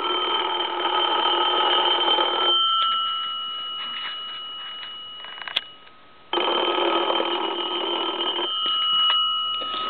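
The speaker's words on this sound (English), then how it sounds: "let's go ahead and ring the telephone" A German Post Office telephone rings with an electric bell, a loud, close, buzzing trill in two long bursts separated by a pause, with a faint mechanical click in the gap.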